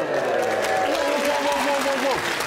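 Studio audience on a comedy panel show applauds steadily and fairly loudly, a dense clapping wash with a voice talking over it.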